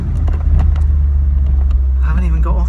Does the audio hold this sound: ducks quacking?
no